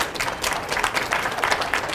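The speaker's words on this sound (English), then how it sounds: "Who gets more out of the clapping, me or you?" An audience claps together, a dense, steady patter of many hands at close range, filling the short stretch with no voices.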